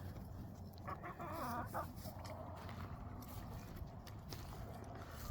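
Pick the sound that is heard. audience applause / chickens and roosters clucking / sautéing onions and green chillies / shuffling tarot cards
chickens and roosters clucking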